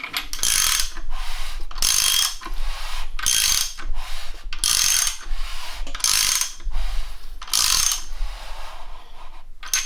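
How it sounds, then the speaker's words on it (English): A Triumph TR4 engine, fresh from piston installation, is turned over by hand. It gives a series of about seven short, sharp clicking mechanical bursts at a steady rhythm, close up and with no voices. "Final check, we'll rotate the motor, and it should rotate nice and easy."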